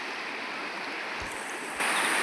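River water rushes in a steady broadband wash at an outdoor immersion spot. The flow swells slightly louder toward the end, with a couple of low thumps and no speech.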